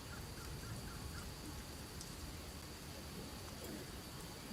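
Rain falls steadily, a dense, even hiss of drops that carries on without a break, with faint bird calls here and there in the background.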